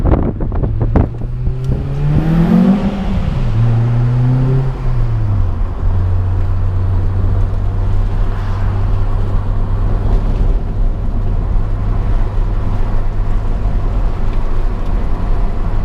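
A Honda Prelude SH on coilovers drives over a rough, bumpy road, its engine rising in pitch then settling into a steady low drone with road and wind rumble, loud and close throughout.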